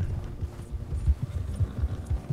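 Horse hooves clip-clopping at a steady walking rhythm in the video game Red Dead Redemption 2, soft repeated thuds with a faint mechanical rattle, moderately close and alone without talk.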